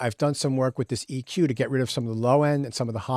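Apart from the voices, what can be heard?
No distinct noise like a dog, phone or traffic.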